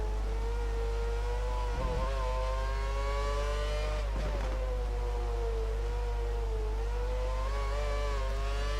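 Engine of a heavy F1 race car in the F1 2013 game at Belgium, a steady high droning whine that holds level and dips briefly twice, with no talk.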